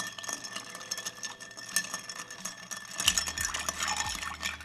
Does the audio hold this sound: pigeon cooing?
no